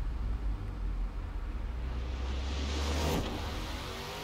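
Cars launching in an airfield drag race in Forza Horizon 4, one turbocharged and one supercharged, with a steady low engine drone that builds into a rising whooshing rush near the end, loud and without talk.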